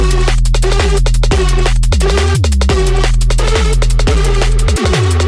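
A loud lo-fi drum and bass beat with deep gliding 808 bass notes under punchy drums and a bright synth line, steady and driving throughout.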